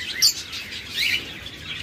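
Cage birds, including cockatiels, lovebirds, budgerigars and doves, give bright overlapping chirps and tweets, a couple of sharper calls standing out against a steady aviary chatter.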